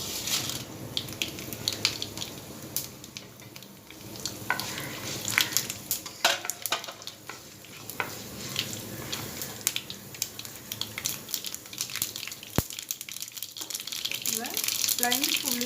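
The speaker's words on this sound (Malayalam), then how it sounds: "അപ്പോൾ നമുക്ക് കടുകും വറ്റൽമുളകും ഉലുവയും ഇട്ട് കൊടുക്കാം കേട്ടോ." Mustard seeds, dried red chillies and fenugreek frying in a hot pan, an ongoing crackling sizzle with scattered sharp pops and occasional stirring scrapes, and a voice talking over it at moments.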